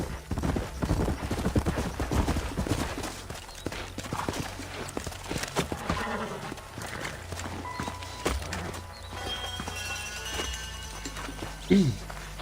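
Horse hooves clip-clop steadily in the Western video game Red Dead Redemption, a rhythmic run of close hoofbeats with a brief whinny near the end, under talk.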